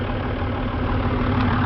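Twin Hino diesel engines idling aboard a Bayliner 3870 motoryacht, a steady low mechanical drone heard close and on its own.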